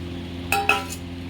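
Plates and dishes clink twice in quick succession as they are handled in a home kitchen during cleaning, sharp close knocks standing above a steady low background hum.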